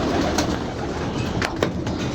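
Pigeons coo close by in a loft in Lahore, giving a low, throaty murmur over a dense wash of background noise, with a few sharp sounds from the birds.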